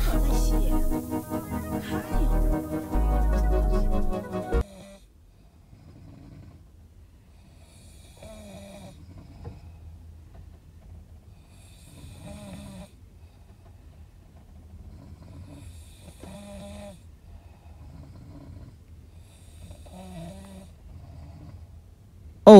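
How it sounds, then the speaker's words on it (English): Several passengers snore in a soft sleeper compartment of an overnight slow train, slow repeated rasping breaths rising and falling at regular intervals against a quiet low rumble, after a loud stretch of other noise at the start. "I woke up because of all the snoring."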